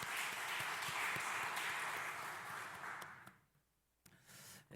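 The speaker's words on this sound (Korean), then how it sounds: "축복하고 격려하는 박수 하도록 합니다" Church congregation at a Korean Wednesday worship service applauding together, a dense sustained clapping that fills the room for about three seconds, then fades out, leaving near silence with a brief faint patter at the end.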